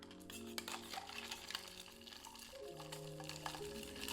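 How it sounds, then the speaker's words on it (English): Old Fashioned cocktail stirred with ice in a mixing glass, light clinks and swirling tinkles continuing over music playing in the background. "and then start stirring."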